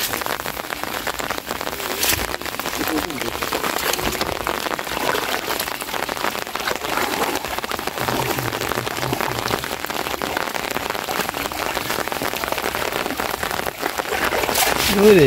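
Rain pours steadily onto a village canal where fishermen haul in a China net, a dense, even hiss of drops on water and surfaces close by, swelling slightly louder at the end.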